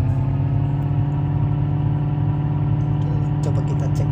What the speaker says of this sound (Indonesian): kita starter dulu